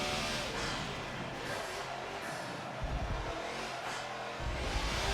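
LMP prototype race cars in a Le Mans 24-hour sim race, engines roaring close with repeated surges and passes, mixed with the driver's own car noise at moderate loudness.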